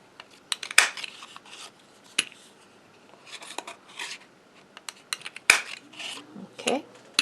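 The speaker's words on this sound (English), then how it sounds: "I'm just going to punch as many of these circles as I want for my buttons" A half-inch paper circle punch snaps through card stock, giving sharp separate clicks at irregular intervals with softer paper rustling and handling between them, close and quiet with no talking.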